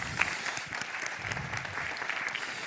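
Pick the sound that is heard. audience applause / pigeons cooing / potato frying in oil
audience applause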